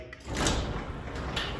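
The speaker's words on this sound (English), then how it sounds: "now we're actually going to open the garage door" A residential garage door with a chain or cable opener rolls open, a brief clatter giving way to a sustained rumbling, mechanical slide close by.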